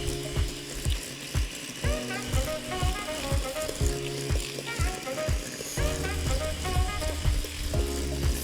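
An electric mixer whisks creamed butter for a banana cake, humming steadily with a rhythmic, repeating mechanical pulse and beater rattle against the bowl, fairly loud and continuous throughout.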